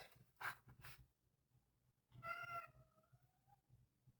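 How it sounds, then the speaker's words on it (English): A house cat gives a faint, drawn-out meow or two in a quiet room. "Yeah, my cat agrees"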